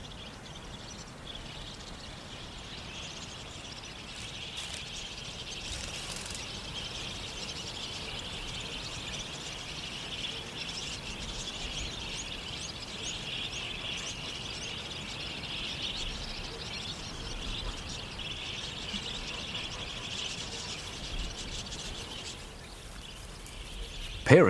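Wild budgies chirp in a continuous high twittering chorus over a steady outdoor hiss, the calls moderately distant and fairly faint throughout.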